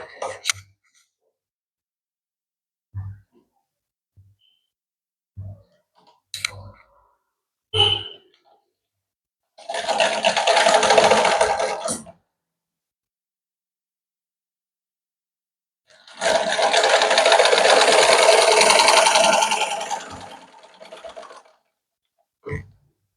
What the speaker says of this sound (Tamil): இதை இதோட மடித்து இன்னொரு மடிப்பு மடித்து இதை தைக்கிறேன்